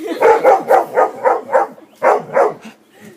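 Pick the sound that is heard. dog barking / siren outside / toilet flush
dog barking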